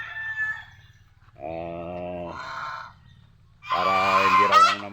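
Ducks or geese kept in a backyard give loud, harsh honking calls in three separate bursts, close by, with low background noise between them.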